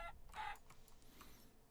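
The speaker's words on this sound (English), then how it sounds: "I see you, chickens." Minecraft chickens cluck in short, faint digital bursts, a couple of brief calls over light game background sound, with no speech.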